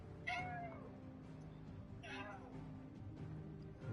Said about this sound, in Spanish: Mi gato ha venido a decir hola